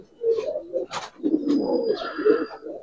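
Giribaz and coloured pigeons coo in soft, throaty bursts close by, several calls overlapping with a few brief flutters and chirps between them.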